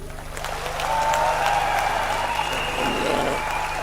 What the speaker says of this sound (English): let's give a big clap to all of you